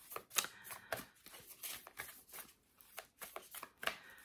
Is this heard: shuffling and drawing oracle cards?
yes